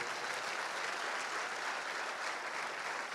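Steady, dense applause from a church congregation fills the whole stretch at an even level, with no voice on top.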